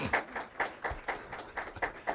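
Scattered audience applause at a live expert debate on Al-Qaeda, a handful of claps arriving in uneven bursts, fairly faint and distant in a large hall.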